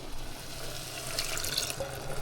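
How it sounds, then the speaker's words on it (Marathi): Leftover spice water poured into a cooking pan with cashew paste masala, a steady close liquid pour and splash throughout, with no talking. "हे जे मसाल्याचं पाणी उरलेलं ना ते पण मी घालून घेते"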